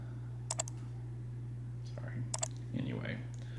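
A computer mouse gives two quick pairs of faint clicks against a low steady hum, followed by soft rustling movement near the desk.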